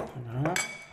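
A utensil stirs lemon juice into a chermoula fish marinade in a bowl, producing quick close clinks and scraping against the dish over about a second.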